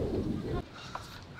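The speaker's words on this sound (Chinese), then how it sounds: "突然间起风" Sudden gust of wind buffeting the microphone outdoors in a large bayside park by a yacht club, a loud low rumble for the first half second, then easing to a steadier, softer breeze.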